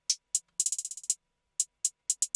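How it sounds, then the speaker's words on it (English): A trap hi-hat pattern programmed in FL Studio ticks crisply and alone, single hits broken by a quick stuttering roll that fades in velocity. "hi-hats sound like this."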